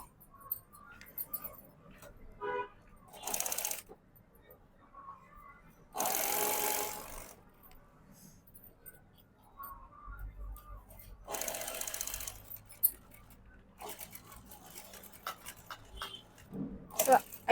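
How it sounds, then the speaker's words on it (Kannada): An electric sewing machine stitches an embroidered blouse in several short whirring runs of rapid needle clatter, separated by quiet pauses, with a voice speaking intermittently between them. "ಇದನ್ನ ಸೇರಿಸಿ ಈ ರೀತಿ ಸ್ಟಿಚ್ ಹಾಕೋಬೇಕು"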